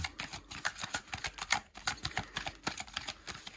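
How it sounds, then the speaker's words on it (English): A tarot deck is shuffled overhand, a close, quiet run of quick papery flicks and snaps as cards slide from hand to hand in a steady rhythm. "So let's do a little bit of an overhand shuffle"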